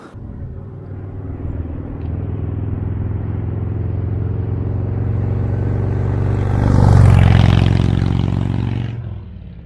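A motorcycle fitted with a Vance & Hines Power Dual exhaust idles with a deep, steady rumbling burble, then revs up louder for a moment before cutting off, close up and with no talk.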